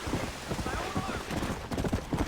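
Horse hooves clip-clop in Red Dead Redemption: Undead Nightmare, a steady run of close, rhythmic hoofbeats across the whole stretch, with game sounds and background speech mixed in.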